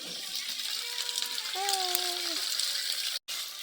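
Eggplant pieces are added to a pan where garlic and onion are sautéing, and a steady sizzle of frying runs throughout with a voice talking over it.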